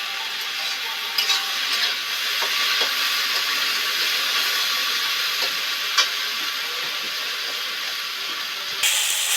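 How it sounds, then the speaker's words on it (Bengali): Sliced okra fries in hot oil in a pan for an okra and potato dopiaza, a loud, continuous hiss of sizzling broken by occasional light clicks and scrapes of stirring. "ঢেঁড়সটা নিপুয়াতে আস্তে আস্তে ভাজতে থাকবে"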